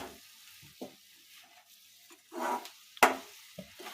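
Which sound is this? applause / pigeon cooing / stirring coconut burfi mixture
stirring coconut burfi mixture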